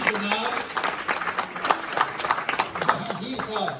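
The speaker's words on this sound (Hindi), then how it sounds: "इसके लिए खूब तालियां" Applause for a design team at a gathering: steady, moderately close crowd clapping that runs through the clip, mixed with voices and cheering.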